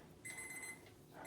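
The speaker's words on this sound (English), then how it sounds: "there's my timer going off" Kitchen timer beeping in a home kitchen, a short high electronic tone lasting about half a second, faint and alone.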